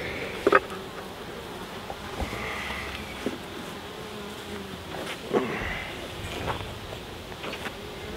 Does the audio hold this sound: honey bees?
yes